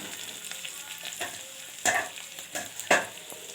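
Capsicum sautéing in a pan, a soft continuous sizzle broken by a few sharp spatula scrapes and knocks, close and clear.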